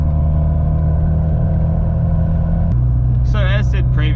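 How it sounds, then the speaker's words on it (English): A 1998 JDM Mini Cooper Sport engine runs with a steady, loud low rumble that drops slightly in pitch partway through, while a voice briefly speaks near the end. "Hopefully it's not too loud, but it's definitely not the quietest car."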